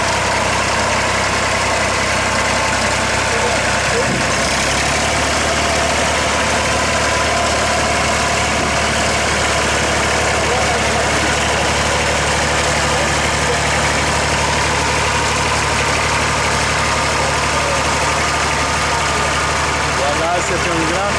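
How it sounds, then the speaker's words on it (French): A tractor engine idles steadily on a farm in Senegal, a loud continuous low rumble and vibration that runs unbroken throughout, with people talking faintly beneath it. "prend les commandes du tracteur"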